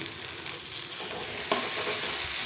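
Coriander leaves and pickle powder fry in a hot pan with a steady, close sizzle and occasional stirring scrapes, including one sharper clatter partway through, with no talking.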